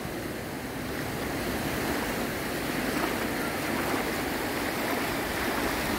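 Sea waves washing onto Tenório beach in Ubatuba, a steady broadband surf wash with constant rushing texture, fairly loud and close, with no voices over it.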